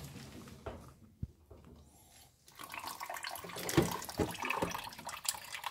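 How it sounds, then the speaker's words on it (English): Water gushes and splashes out of a tilted Whirlpool washing machine in a steady pour after a quieter start, with a few sharp knocks and clunks along the way. "tilt a little bit so the water is gonna come out"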